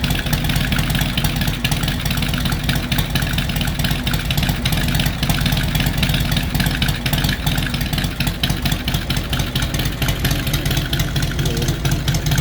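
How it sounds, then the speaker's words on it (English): A 2018 Harley-Davidson Heritage Softail with a warmed-up M8 114 engine and Bassani True Duals exhaust idles close by, a loud steady lumpy rumble with an uneven loping beat and no talk. "this is a warm idle with those Bassani True Duals"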